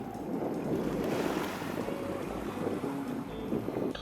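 Sea waves wash continuously at the mouth of the Pandan River, a steady broad rushing surf mixed with wind buffeting the microphone, with no talk over it.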